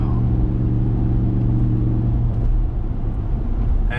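Steady low engine drone and exhaust rumble from a 2019+ Ram 1500 with a 5.7 Hemi V8 and Borla S-Type catback exhaust, cruising at highway speed with continuous road noise, no voices.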